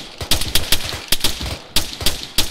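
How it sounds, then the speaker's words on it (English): Rapid bursts of gunfire in ARMA 3, with sharp, loud shots fired in quick clusters and short pauses between them. "let me fucking shoot past this fucking barrier"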